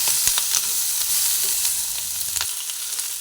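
Ginger sizzling in hot oil for a papaya and capsicum dish, a steady close hiss with a few sharp crackles and spatula taps, easing slightly toward the end.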